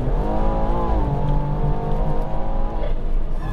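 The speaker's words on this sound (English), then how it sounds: "Can you hear this intake? It's an MST intake." A Stage 3 tuned BMW M240i with an MST intake, heard from inside while driving: a loud, steady turbocharged engine drone whose pitch rises and dips slightly with throttle, with intake noise layered on top and no speech.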